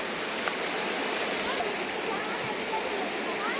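A river streams past in a constant broadband rush, close and steady with no breaks, outdoors at a riverside spot where people are about to wade across.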